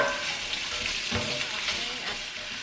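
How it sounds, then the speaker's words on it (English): Onions sauteing in olive oil in a pan give a steady broadband sizzle, close and continuous, with a brief stir or scrape near the middle; no voices. "I'm gonna add that to the pan with that olive oil and saute all those for just a couple minutes"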